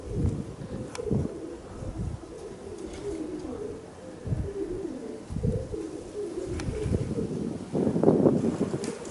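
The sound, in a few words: strong wind on phone microphone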